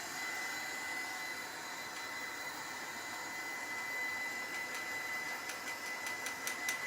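A hair dryer blows a steady, moderately quiet whir while rust paste dries on an old camera, with faint light taps and clicks near the end.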